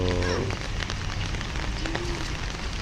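Steady patter of rain falling on a surface, a dense even hiss with small scattered drops, moderately loud throughout.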